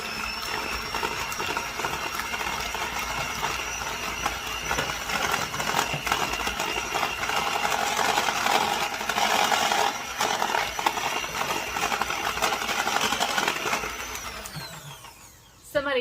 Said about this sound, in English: I'm going to give this a mix with our hand mixer